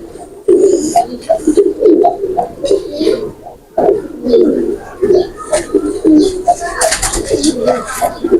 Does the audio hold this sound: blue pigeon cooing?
yes